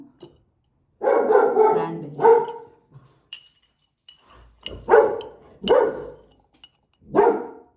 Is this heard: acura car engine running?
no